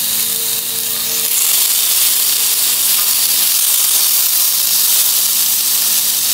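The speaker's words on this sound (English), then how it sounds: "Oh, yes, it sizzles." Loud, continuous sizzling and hissing of chicken searing in a hot cast iron grill pan, close up and steady throughout with no voices.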